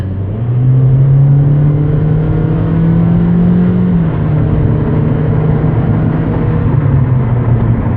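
A Batmobile engine revs while driving, a loud, close, steady drone whose pitch climbs and then dips as the car accelerates and shifts, with no talking.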